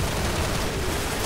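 Rapid gunfire in a Garry's Mod zombie survival match at a last-stand mall, aimed at a fish, fills the clip as a dense, loud, continuous burst with no clear pauses.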